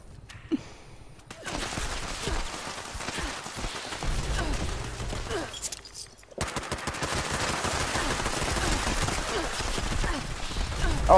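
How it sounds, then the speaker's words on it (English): Rapid, dense gunfire from players shooting in the online game Fallout 76 rattles on almost continuously, loud and close, with a short break before another sustained burst. "Why are you shooting me?"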